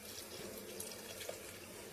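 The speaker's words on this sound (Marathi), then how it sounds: "मिक्सरच्या भांड्यात थोडंसं गरम पाणी टाकून त्याला हलवून ते पाणी ह्याच्यात ओतून घ्यायचं" Warm water is poured from a mixer jar into a mixed vegetable curry in a steady, gentle stream that splashes without pause, faint and close, with no voices.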